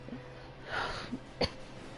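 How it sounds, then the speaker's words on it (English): A single throaty cough or throat-clear bursts out near the middle, short and close, after a softer breathy exhale, amid quiet background noise. "Water is helping my coughing be a little less."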